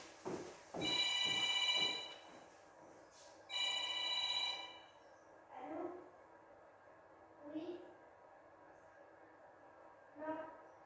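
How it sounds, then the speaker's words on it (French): An old-style telephone bell rings in two long bursts, followed by several shorter fainter rings, with quiet gaps between each and no talking. "Oh non, ça c'est le téléphone de mon père."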